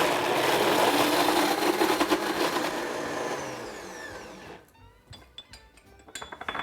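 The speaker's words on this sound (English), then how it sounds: "we're gonna go ahead and blend until it's smooth" A blender whirs loudly and steadily for about four seconds while it blends a thick miso spread, then winds down and stops, followed by a few light clinks and knocks of the jar.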